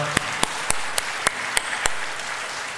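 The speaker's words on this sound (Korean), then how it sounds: "자, 우리 친구한테 다시 한번 박수로 축하합니다." A church congregation claps together in steady unison, seven crisp, evenly spaced claps ringing out over a quiet room with no one speaking.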